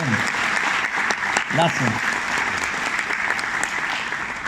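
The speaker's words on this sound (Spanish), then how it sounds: "yo les pido un aplauso para ustedes mismos" An audience applauds itself at a mayor's public address in Itagüí, continuous even clapping under a brief spoken thanks, fairly close and steady throughout.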